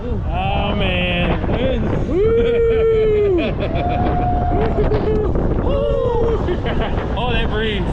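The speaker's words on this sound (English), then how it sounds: "It is windy, my goodness." Strong wind rushes and buffets the microphone on a tall Six Flags thrill ride, billed as taller than Goliath, with a constant roar throughout and people talking and exclaiming over it.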